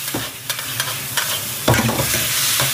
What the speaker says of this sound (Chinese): 你把里面那个番茄素炒出来